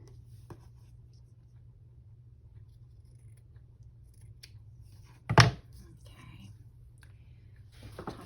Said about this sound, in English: let me just clip that so I can cut that away and save it up here